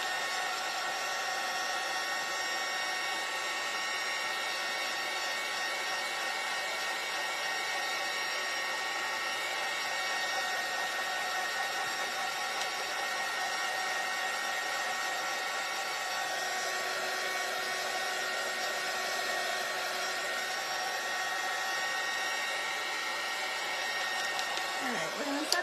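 A hair dryer blows steadily and loudly throughout to dry craft kit pieces for a heart stand, a constant whirring hum whose pitch shifts slightly partway through.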